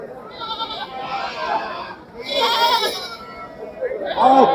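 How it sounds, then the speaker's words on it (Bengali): Sheep and goats bleat in repeated, overlapping cries at the historic Talgachhi livestock market in Shahjadpur, Sirajganj, with crowd voices and someone talking underneath. "প্রচুর পরিমাণে ভেড়া উঠেছে এবং ছাগল উঠেছে"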